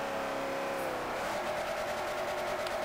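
A 2010 Camaro's stock engine in Forza Motorsport 4 holds a steady, loud racing drone, its pitch sliding slightly down then settling into a sustained rev with no talk.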